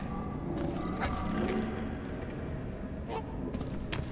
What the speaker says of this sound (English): Ah yes, a literal wild goose